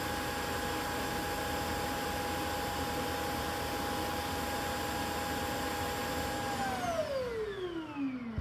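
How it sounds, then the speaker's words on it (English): A Shark AV911S robot vacuum emptying its dustbin gives a loud, steady motor whine and airy rush that hold for several seconds, then the pitch glides down as the motor winds off near the end. "it just vacuumed the house and it emptied its dustbin and there was no air"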